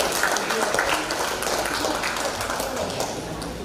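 Audience at a public debate for regency head and deputy candidates breaks into applause, a broad wash of clapping that starts strong and tapers slightly, with a few sharper taps standing out.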